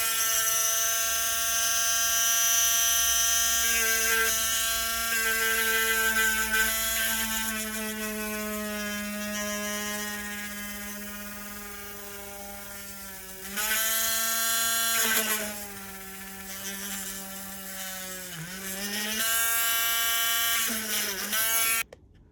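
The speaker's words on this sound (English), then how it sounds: "So here is my Dremel, and please excuse the noise." A Dremel rotary tool drills holes in a vintage lantern with a loud, steady high-pitched whine that dips in pitch as the bit bears into the metal, running alone for over twenty seconds.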